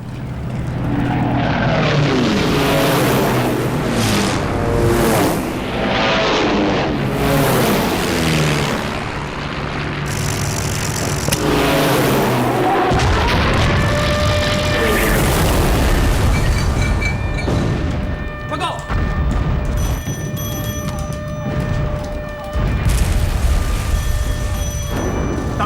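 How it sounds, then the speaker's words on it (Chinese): Aircraft engines drone loudly through a wartime air force bombing raid, with heavy booms and explosions layered over the continuous roar, building and fading across the scene with no speech. "空军进行的第7轮轰炸了"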